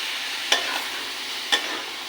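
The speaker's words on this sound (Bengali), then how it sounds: "এটাকে একটু ভালো করে কষিয়ে নেব।" Spice paste of ginger, garlic, onion and green chilli with a splash of water cooks in a pan, a soft steady sizzle broken by two sharp scrapes of a spatula about a second apart.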